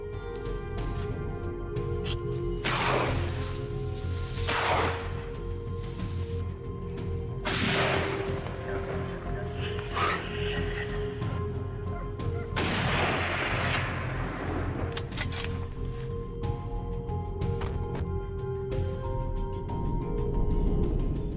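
Rifle shots fired while hunting wild boars outdoors: around five sharp, loud cracks at irregular intervals over about twenty seconds, each with a brief echoing tail, set over a steady droning background.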